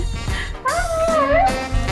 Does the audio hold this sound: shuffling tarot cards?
no